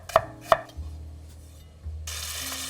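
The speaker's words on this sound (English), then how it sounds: "Pre-clean them and cut into half rings." Two sharp knife chops on a cutting board as small onions are cut into half rings, followed by a low kitchen hum and a brief hiss near the end; no talking.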